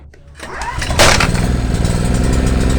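An Ozito 2000W petrol generator is pull-started: a brief cord rasp, then the engine catches and settles into a loud, steady, close running drone.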